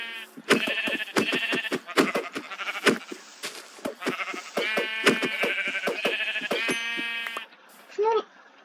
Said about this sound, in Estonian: Lambad.